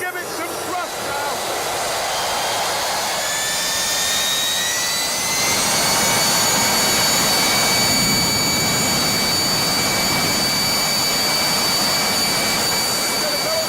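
A jet engine being throttled up after ignition, giving a loud steady roar and rushing hiss that swells over about fourteen seconds, with rising whining tones layered above it.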